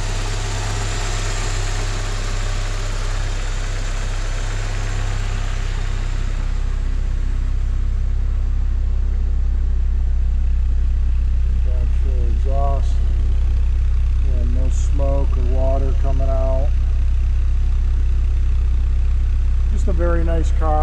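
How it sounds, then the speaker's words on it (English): A 1990 Porsche 944 S2 Cabriolet engine idles in a low, steady rumble throughout, with a voice talking over it in the second half. "Engine sounds very strong. No knocking, just purrs as it should."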